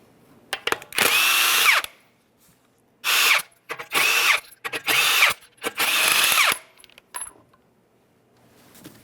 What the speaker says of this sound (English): go ahead and remove all 5 of your 21mm lug nuts and we can get the wheel off of here